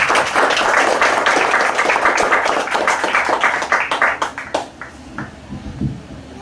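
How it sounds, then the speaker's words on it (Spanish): Guests at a wedding ceremony break into loud, sustained applause from many hands, then the clapping thins out into a few scattered claps before fading. "Un fuerte aplauso."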